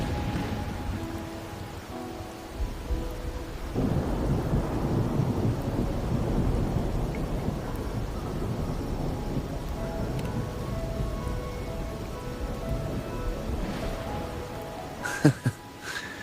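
Steady rain falls with low thunder rumbling in a Wuthering Waves game scene, a continuous wash of downpour that swells partway through, with a brief sharp crack near the end and no voices.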